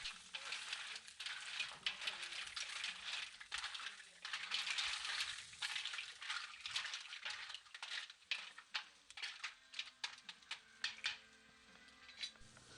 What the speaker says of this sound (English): Allow the mussels to simmer for a few minutes until all of the shells have opened, stirring them occasionally.